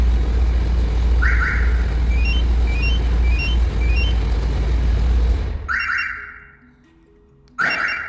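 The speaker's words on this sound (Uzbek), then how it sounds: "Bu mashina signalizatsiya stanovka qilib berdi, ya'ni pultda bosdi" Car alarm on a VAZ 2107 in Tashkent, set off by remote; loud repeating electronic chirps and warbling tones over an idling engine rumble, followed by short beeps as it cuts out and then sounds again.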